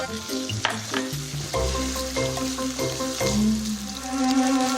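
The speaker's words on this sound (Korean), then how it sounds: "고기를 넣고 달달 볶아주시면 될 것 같고요" Ground beef stir-fries over high heat in hot oil in a Chinese-style preparation for mapo tofu, giving a loud, continuous close sizzle with stirring, and no talking.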